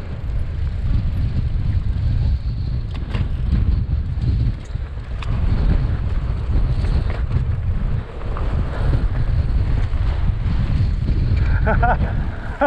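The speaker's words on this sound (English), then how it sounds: "The wind blew me." Strong side wind on a rugged Atlantic coastline, buffeting the microphone as a loud, continuous roaring rumble with brief dips, heard during a mountain bike ride along the cliffs, with a voice faintly audible beneath it.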